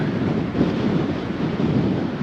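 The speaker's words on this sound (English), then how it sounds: "even though it's really, really windy down here" Heavy wind roars continuously against the microphone at a lookout on Maui facing Haleakala, a constant low rumbling rush with no voices.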